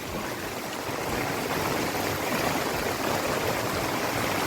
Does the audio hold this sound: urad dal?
no